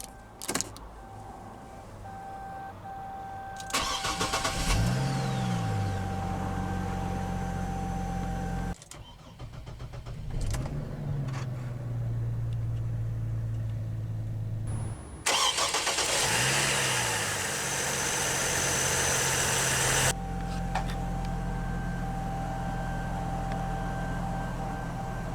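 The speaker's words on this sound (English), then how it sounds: "let's go ahead and start the engine" A 2007 Saab 9-7X 4.2i SUV engine cranks and catches, then settles into a steady idle, with several separate start-up bursts and the hum of an electric window motor heard from inside the cabin.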